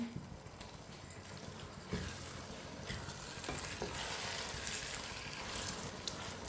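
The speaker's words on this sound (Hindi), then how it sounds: "इसे भी इसी तरह चम्मच चलाते हुए पकाएं।" Biryani masala being stirred with a spoon in a cooking pot for Hyderabadi chicken biryani, a steady close scraping and sizzling texture that continues for several seconds with occasional sharper knocks, no talking.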